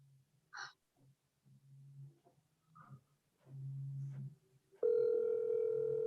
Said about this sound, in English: just call on your cell phone and put it on speaker